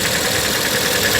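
Car engine with worn crankshaft bearings knocking, a steady dense mechanical rumble and rattle running continuously and fairly loud at idle, with no talk.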